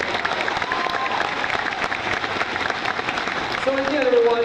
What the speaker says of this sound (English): Round of applause for a great job,